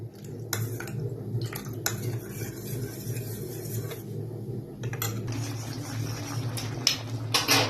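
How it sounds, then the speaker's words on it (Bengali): A spoon stirs cornflour into water in a bowl to break up lumps, giving continuous clinking and scraping against the container, close and steady, with no talk. "এবার জলের সাথে ভালো করে কিন্তু মিশিয়ে নিতে হবে, কোনো রকম যেন লাম্পস না থাকে"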